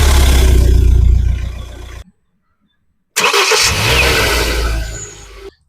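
A Kia Venga with a 1.6 CRDI diesel engine of nearly 130 horsepower starts and idles with a loud, close, low rumble, goes silent for about a second, then starts again and runs steadily.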